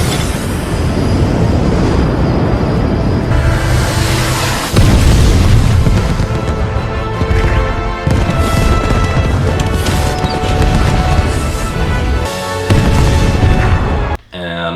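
Fireworks bursting in the sky in an animated Star Trek Prodigy scene, loud booming blasts layered over a dense, sustained music score with crashes and swells.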